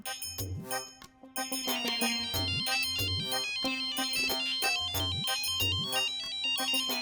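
A phone ringtone plays during a call, a bright repeating melodic tune over a steady beat in a regular looping pattern, loud and close with no talking.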